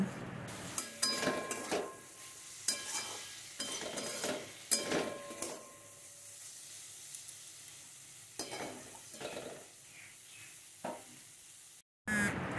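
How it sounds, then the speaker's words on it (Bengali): Taro stolons with spices stir-fry in a pan, soft sizzling under repeated scrapes and clinks of a spatula against the metal, quiet and close, with a brief pause near the end. "আবারও ভালো করে আমি কচুরলতির সাথে সমস্ত মশলাটা কষিয়ে নিচ্ছি"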